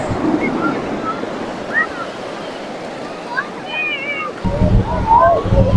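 Wind blowing at a beach, a steady rushing roar that runs through the whole clip, with surf-like noise, faint bird chirps and a heavier gust near the end.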